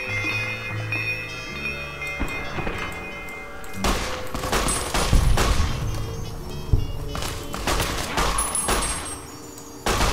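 Repeated gunfire in Fallout: New Vegas, with sharp shots in irregular clusters and bursts across the stretch, loud and close, over in-game ambience with ringing tonal sounds.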